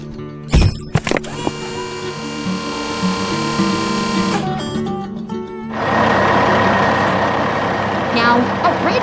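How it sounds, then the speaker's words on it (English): A red tow truck arrives at an airport runway site in a 3D construction cartoon, with sharp clanks early on, a sustained tonal whine over engine rumble, then a louder, rougher rumble taking over. "Now, a red tow truck arrives."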